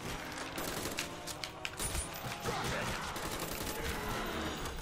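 Semi-automatic gunfire in the video game Black Ops Zombies, rapid tapped shots fired in a dense irregular volley over a steady game backdrop, with no speech.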